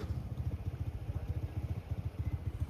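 One of three motorcycles idles before setting off on a ride, a low, steady thumping putter in a fast even rhythm, fairly quiet and heard alone without talk.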